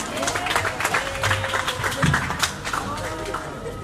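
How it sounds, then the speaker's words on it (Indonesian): Audience applause at a university stand-up comedy show, honoring the library's A accreditation, a dense patter of clapping with a few sharper taps running steadily throughout, with murmurs and voices mixed in. "Tepuk tangan untuk akreditasi untuk perpustakaan UNED."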